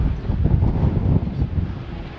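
Strong wind batters the microphone at the Portsmouth Naval Memorial, a loud, close, low rumbling roar that swells and eases in gusts.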